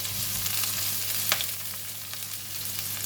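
Kailan stems stir-frying in a pan for beef stir fry, a steady close sizzle with a brief scrape of stirring partway through, no voices.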